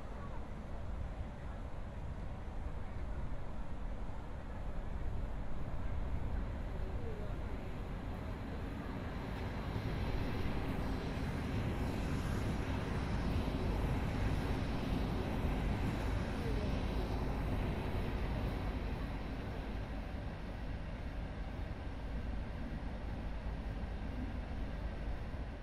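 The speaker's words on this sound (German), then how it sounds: "wir schauen uns noch die Einfahrt da von dem Triebwagen her an" A Hamburg U-Bahn railcar pulling into a station in Train Simulator, a long steady rumble of wheels and motor that swells slightly midway and holds throughout.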